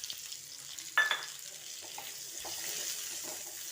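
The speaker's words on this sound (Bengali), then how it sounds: "তারপর দিয়ে দিচ্ছি কুচনো পেঁয়াজগুলো" Chopped onions drop into hot white oil with cumin seeds in a pan for paneer masala, a sharp burst of sizzle followed by a quieter, steady frying hiss and light stirring.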